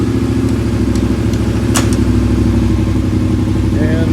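A Kawasaki Brute Force 750 ATV running hard in reverse with its tires spinning, a loud, steady, close engine drone that holds at full power throughout with a faint squeal near the end.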